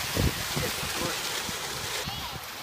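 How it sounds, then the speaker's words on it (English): Gusty wind buffets the microphone in low, rumbling bursts at an over-the-water dining area of the Now Sapphire Resort, with a broad hiss running steadily underneath. "It's very windy today, so this is audio is going to turn rubbish."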